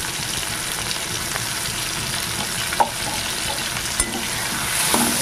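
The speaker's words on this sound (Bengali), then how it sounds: "ভালো করে মশলাটাকে প্রথমে কষিয়ে দেব পেঁয়াজের সঙ্গে" A paste of ground turmeric, ginger, garlic and cumin fries with onions in a pan, giving a loud, continuous sizzle with a few sharp utensil taps and scrapes as it is stirred.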